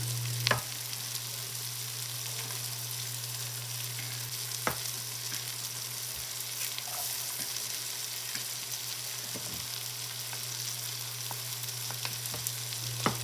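Vegetables and garlic sizzle steadily in a stew pot for beef stew, a soft continuous frying crackle with occasional small pops and a low hum underneath, and no talking.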